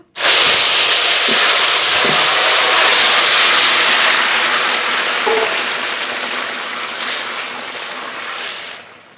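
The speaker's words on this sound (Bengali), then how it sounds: "সম্বর করে নেব তেল জিরে তরকারি ঢেলে দেবো" Cumin-tempered hot oil meets poured curry in a village kitchen, erupting into a loud, steady hiss of sizzling that fades gradually over several seconds, with no voices.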